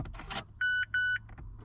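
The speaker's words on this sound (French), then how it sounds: "Beaucoup de bips, c'est une japonaise." Two steady electronic beeps in a row from a Mazda 3 MPS dashboard, each about a quarter second long, clear and close, with faint clicks and rustling around them.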